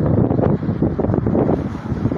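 Strong wind during a late-afternoon storm in Santa Bárbara d'Oeste, Brazil, a loud rushing gusty roar buffeting the microphone throughout.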